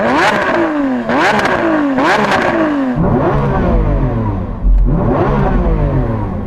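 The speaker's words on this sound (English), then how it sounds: "So I'm going to rev up this SVJ." A Lamborghini Aventador SVJ V12 revs hard and close several times in a row, each rise and fall sharp and loud, ending with deeper, rumbling blips and a cracking exhaust.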